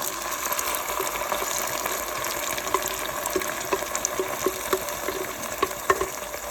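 A blended onion and ginger mixture frying and being stirred in a pan, with steady soft sizzling and a run of small scraping clicks from the stirring.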